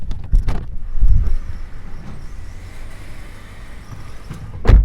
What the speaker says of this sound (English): That's the sound of cars